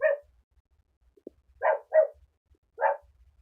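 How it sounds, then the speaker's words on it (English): Several dogs barking in short separate bursts, a single bark and then a quick pair followed by another after a pause, fairly close with quiet gaps between. "My landlord's dogs have some comments to make, apparently."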